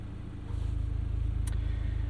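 A 2024 Volkswagen Golf R MK8 with a six-speed manual cruises at night with its active exhaust set to loud mode, giving a steady low engine drone that swells slightly after a moment, heard from inside the car.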